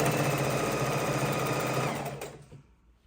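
Close, loud sewing machine joins two baby quilt top pieces of a four patch quilt, buzzing steadily for about two seconds and then stopping, with fabric handling sounds after.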